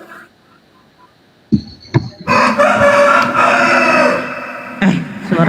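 A chicken, likely a rooster, crows loudly and close, a long sustained cry following a few sharp clucks and bumps, ending with more clucking and a low voice at the close.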